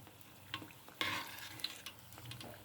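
A batch of crunchy Thai fried peanut snack cooks in hot oil, giving a soft, steady sizzle with a few light clicks and scrapes as pieces are scooped out. No one speaks.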